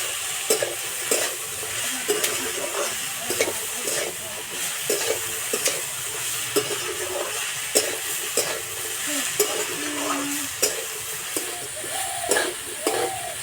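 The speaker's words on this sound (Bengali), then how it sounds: "এদিকে সবজিগুলো হালকা আঁচে ভাজা হতে থাক" Potato and carrot pieces for chowmein stir-fry in a pan over low heat, with a steady sizzle broken by repeated sharp scrapes and clacks of the spatula against the pan.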